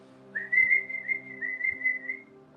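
A pet cockatiel gives a clear whistled call copied from how its owner calls the dogs, a short rising-and-wavering phrase with two quick breaks, close and fairly quiet against a soft steady hum.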